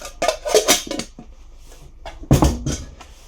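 Trangia mess tins and their lid handled up close, with a few sharp metallic clinks and scrapes in short bursts and a louder clatter near the end, no voices.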